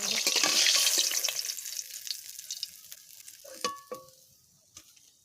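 Pieces of catla fish frying in oil in a pan: a strong, close sizzle that gradually fades over a few seconds, followed by sparse utensil clinks and scrapes.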